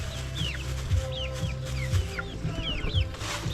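Several chickens cluck and chirp in short repeated calls over a steady low background hum, close by and moderately loud.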